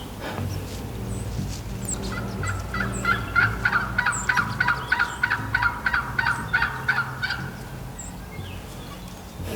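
Wild turkey gobbler gobbling from a short distance during a hunt near a blind, a rapid rattling burst of about a dozen pulses that rises over steady outdoor background noise.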